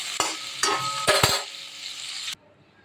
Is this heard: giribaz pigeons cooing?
no